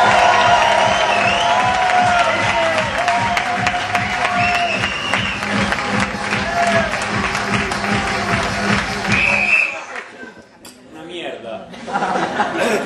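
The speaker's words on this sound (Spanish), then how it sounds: "Aplauso y ovación." Audience at a live improvised comedy show breaks into loud sustained applause with cheering, whoops and laughter, a dense roar of clapping that drops off sharply near the end as voices carry on.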